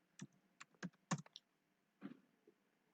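Computer keyboard typing: a quiet, irregular burst of separate key clicks, several quick taps then a brief pause before a couple more.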